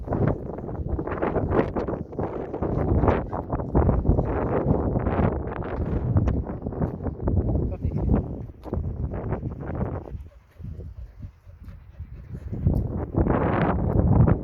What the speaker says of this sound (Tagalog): Sobrang hangin guys. Sobrang hangin.